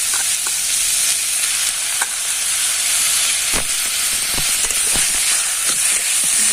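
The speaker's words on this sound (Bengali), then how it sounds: "গ্রেট করা আলুটা এবার দিয়ে দিচ্ছি।" Grated raw potato goes into a hot frying pan with ginger and garlic and is stirred, giving a loud continuous sizzle and hiss with repeated scraping knocks of the utensil against the pan.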